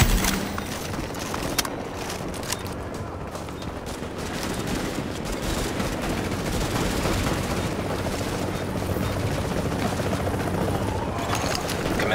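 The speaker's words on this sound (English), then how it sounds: "Chopper is inbound." In Tom Clancy's The Division, a helicopter arrives amid a dense, continuous roar of rotor noise and rapid gunfire, loud and steady throughout the fight.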